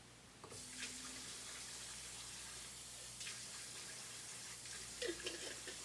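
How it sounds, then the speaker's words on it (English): Tap water running steadily into sauce jars at a kitchen sink, a continuous close hiss with a few brief splashes and clinks as the jars fill. "We're going to fill them up with a little bit of water."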